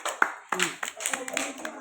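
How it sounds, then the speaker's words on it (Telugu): A few scattered hand claps ring out for a child in a small indoor group, short sharp bursts mixed with talking voices. "క్లాప్స్ కొట్టండి తనకి"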